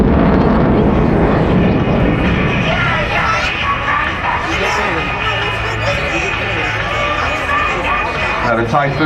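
A Eurofighter Typhoon fighter jet with twin EJ200 engines flies at an airshow, its loud jet roar filling the air beneath a commentator speaking over the public address.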